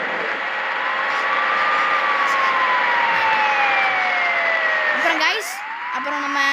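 An ambulance siren in the Bus Simulator Indonesia video game wails loud and close, its tone sliding steadily downward as it passes, then bending sharply near the end.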